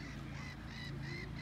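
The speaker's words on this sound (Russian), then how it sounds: "Представьте, чайки крик подняли." Gulls cry out in a short, faint burst of repeated calls near water where swans and ducks swim, several birds overlapping.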